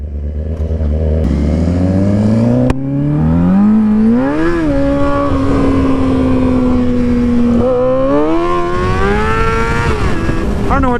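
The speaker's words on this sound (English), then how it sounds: "My back tire spun up." Motorcycle engine revs hard and close as the rear tire spins up, the pitch sweeping up and down in loud, sustained bursts.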